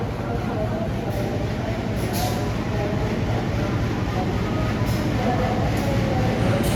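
KA Kahuripan economy train pulling into Lempuyangan station, a loud, steady low rumble of rolling cars with a few brief higher squeaks, continuous throughout.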